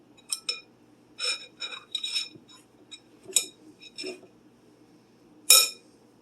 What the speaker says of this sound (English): I'm going to use a spoon and scoop out my biscuits about 1 inch apart